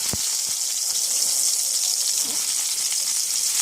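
Small pieces of garlic dropped into hot oil in a home kitchen give a loud, steady frying hiss that holds evenly throughout, with a couple of soft knocks near the start.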